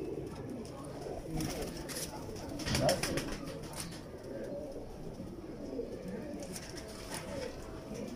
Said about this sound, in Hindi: ओरिजिनल कबूतर हैं कमगर